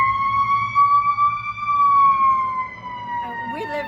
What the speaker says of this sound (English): Oh, it's the fire truck.